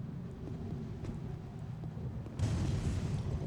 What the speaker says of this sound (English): try to bomb them because I know they're on the wall there